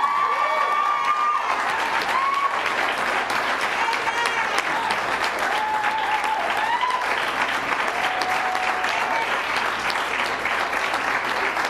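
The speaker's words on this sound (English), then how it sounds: "Another round of applause for the men and women of law enforcement." Loud, sustained applause from a crowd at a press briefing honoring law enforcement, dense clapping with scattered cheers and a few whistles rising above it, continuing unbroken throughout.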